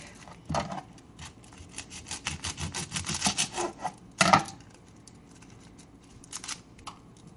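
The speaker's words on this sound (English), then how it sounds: "Now the painstaking process of peeling garlic" Garlic cloves are peeled by hand, with papery skins rustling and scratching in bursts of close, dry rubbing and crackling, separated by brief pauses.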